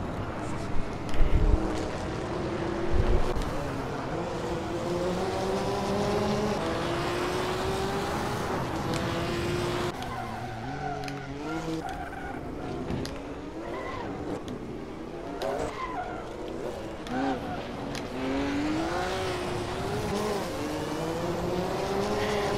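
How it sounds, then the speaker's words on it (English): A Porsche race car in a racing video game accelerates hard, its engine note climbing repeatedly through gear shifts, with other cars and faint tire noise in a continuous racing mix. "look at that acceleration on the Porsche"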